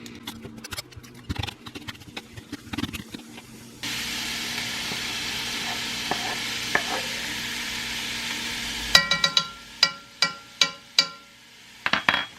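Mild Italian sausage frying in a pan, a steady hiss of sizzling fat with scattered clinks and scraping stirs, then a string of sharp knocks near the end.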